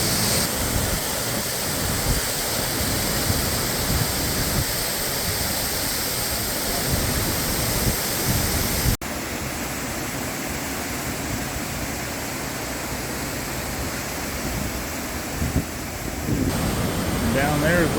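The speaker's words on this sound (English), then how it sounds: "This is the trail up to this waterfall." A waterfall on a trail along the Historic Columbia River Highway roars as a steady, broadband wash with no letup, loud and close throughout.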